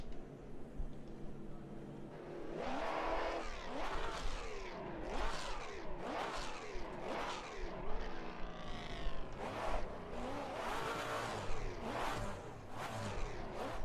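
A GT4 race car in the racing game Assetto Corsa Competizione revs hard through repeated gear changes, engine pitch climbing and dropping in cycles over about fourteen seconds, steady and fairly present with no talk.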